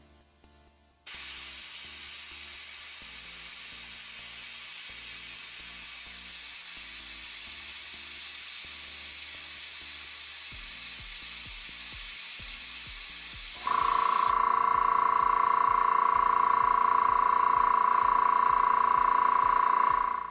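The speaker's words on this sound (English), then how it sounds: "this air compressor is a lot quieter than the other air compressor that we just used" An airbrush air compressor kicks on after a brief pause and runs with a steady loud hiss, then its pitch shifts as a sharp tone joins the constant hum, continuing alone without speech.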